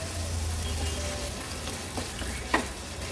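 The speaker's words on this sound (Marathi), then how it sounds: "व्यवस्थित हे प्रॉन्स मिक्स करून घेते।" Chopped prawns being stirred into onions in a hot pan for an Agri-Koli fish thali, a steady sizzle with soft scraping strokes and one brief louder clack near the end.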